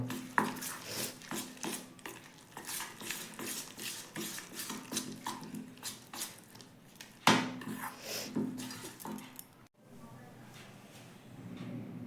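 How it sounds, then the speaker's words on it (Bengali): Medu vada batter being mixed and beaten, first stirred with a spoon and then worked by hand, giving a steady run of close, wet clicking and scraping strokes against a bowl. "প্রথমে চামচ দিয়ে মেশাচ্ছি তারপর হাত দিয়ে খুব ভালো করে ফেটিয়ে নেব"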